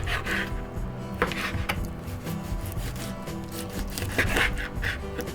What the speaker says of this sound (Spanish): Vamos a empezar por cortar las alitas.